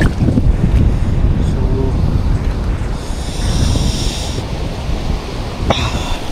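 Strong wind roars across the open sea with heavy waves surging and churning, loud and continuous, the gusts buffeting close by.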